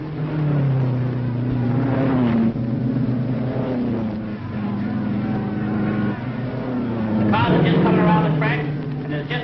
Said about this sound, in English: That's the signal for the race to go, and they're off.